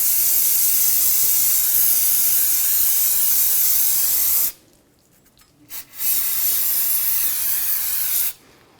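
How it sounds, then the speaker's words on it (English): Brake parts cleaner sprayed onto a BMW 550i brake hub: a loud, sustained aerosol hiss, a brief pause with a short puff, then another long burst of spray. "I'm just going to spray some brake parts cleaner"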